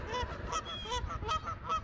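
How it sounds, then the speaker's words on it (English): A flock of geese honking repeatedly over a steady outdoor rumble at Beaver Run Reservoir, the calls overlapping and moderately distant. "where are the geese? There they are. Bye-bye, geese."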